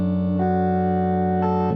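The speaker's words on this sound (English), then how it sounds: "It does a little detune and cuts a little bit of the lows, put some distortion on it." A sustained, buzzy synthesized tone from a sampled indie R&B sound with detune, reduced lows and distortion, with a slightly detuned, gritty character, holding steady for under two seconds with a brighter swell near the end.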